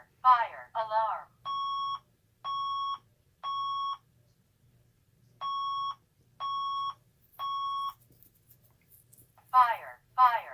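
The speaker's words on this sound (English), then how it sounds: "this keypad is not very loud, even in alarm" A Honeywell 6272CSV alarm keypad sounds two sets of three even, moderately loud tonal beeps during a fire alarm, with a voice speaking briefly before and after them.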